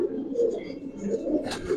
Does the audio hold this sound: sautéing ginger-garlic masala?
no